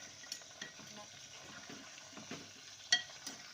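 Capsicum turned and cooking in a clay pot: a soft, steady low sizzle with faint scraping stirs and occasional light clinks of a utensil against the pot, one sharper knock standing out.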